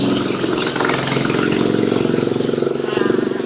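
A neighbour's motorcycle passes by outside, its mid-pitched engine buzzing loudly and continuously with a pulsing rhythm that holds steady across the moment.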